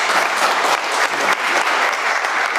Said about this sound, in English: Not an overwhelming applause for that.